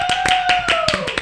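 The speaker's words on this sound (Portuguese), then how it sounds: "Uma salva de palmas!" Podcast guests clap a handful of sharp, separate claps in quick succession, close and fairly loud, while a steady sustained tone runs behind them.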